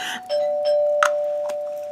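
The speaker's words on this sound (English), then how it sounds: "That's the doorbell" A doorbell chimes with a sustained ringing tone, two or three quick struck notes ringing out clearly over a quiet room.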